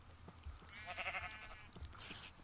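A short, nasal pig grunt in Minecraft with a buzzy harmonic texture, heard once amid light rain patter and background noise.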